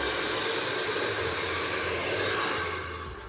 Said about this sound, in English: Use a comb like this and just do it like this and blow dry it.